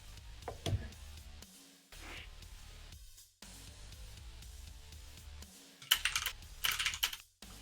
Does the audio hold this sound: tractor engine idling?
no